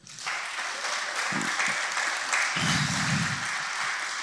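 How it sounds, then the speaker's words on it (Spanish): A church congregation claps for the Lord during a sermon, a sustained wash of applause filling the room after a brief quiet start, with a few low thumps mixed in. "Dele un aplauso al Señor"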